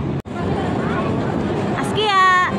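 Dense crowd babble at a busy harbour where a warship is docked, a continuous murmur of many voices with a brief high whistle-like tone near the end.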